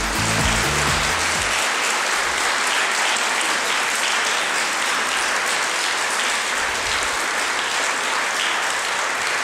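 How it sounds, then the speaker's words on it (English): Loud, sustained applause from a large audience honouring the finalists and third-place teams of a debate competition, steady dense clapping throughout, briefly joined by a musical sting at the start. "I need to give all of you another round of applause."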